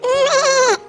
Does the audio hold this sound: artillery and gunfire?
no